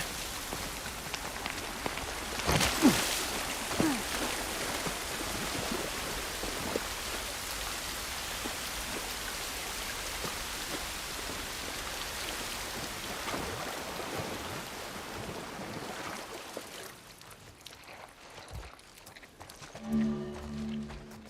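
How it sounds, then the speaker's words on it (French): Steady rain falling in The Last of Us Part I, a dense hiss of drops on surfaces that fills most of the stretch, then thins out near the end as quieter game sounds take over. "Au moins, on n'est pas sous la pluie."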